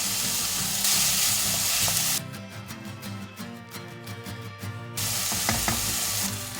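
Chicken breast and garlic sizzle and fry in a pan until brown, a steady close hiss with occasional stirring scrapes and no talk.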